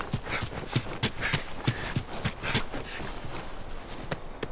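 Rhythmic hoofbeats of a horse clip-clopping at a steady trot in the video game The Last of Us Remastered, close and clear over a faint background ambience.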